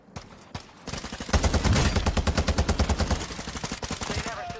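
Rapid automatic gunfire in the video game Warzone 2 Season 3 Reloaded, loud sustained bursts of close shots in a fast steady rhythm after a brief quieter start.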